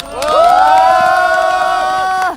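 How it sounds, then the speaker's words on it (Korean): A street rally crowd in Busan protesting the judiciary erupts in loud, sustained cheering and shouting, with massed voices swelling together and holding for a couple of seconds before cutting off. "동의하면 박수 쳐주세요"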